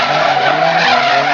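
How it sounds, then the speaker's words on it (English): A Toyota AE86 Corolla drift car with an S2000 engine slides with a loud, continuous tire squeal mixed with engine roar, close and unbroken at a drift qualifying event. "Next up we have Ty Cahir, another one of our S2000 powered 8086 Corollas"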